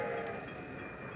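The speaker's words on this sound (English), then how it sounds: "The train was coming closer. I could hear its bell. Heard its cry, its whistle crying." A train approaches in a radio drama sound effect, a steady rumbling rush with a faint tonal whistle at the start, fairly quiet and without voices.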